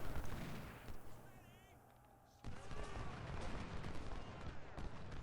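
Booming 24-pound howitzer artillery in an Ultimate General: Civil War battle, with repeated heavy reports and a sustained rumble of gunfire across the battlefield, intensifying after a brief quieter stretch.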